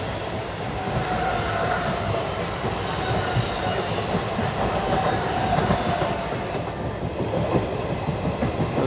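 The 22149 Ernakulam Pune Superfast Express rolls along the rails in monsoon conditions, heard from on board as a steady rumbling roar with rhythmic wheel clatter and occasional faint squeals, loud and continuous.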